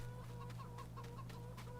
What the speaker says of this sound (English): Pardon me, chickens.